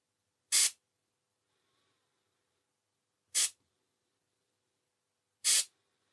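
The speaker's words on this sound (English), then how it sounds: "We can simulate taking a shot by loosening this valve here." A loosened valve on a pressurized Huma airgun regulator releases three short, sharp hisses of air. They are evenly spaced a few seconds apart, close and clear, with near silence between them.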